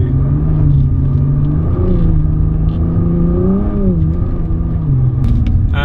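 A 2017 Nissan GT-R supercar driving through snow, its engine a loud, steady rumble with gear-change pitch sweeps as it holds and rises in revs, close and continuous throughout.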